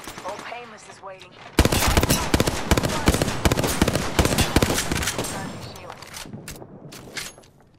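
Sustained automatic gunfire from an Apex Legends match erupts loudly after a quieter opening with game voice lines, rattling in dense rapid bursts that taper toward the end.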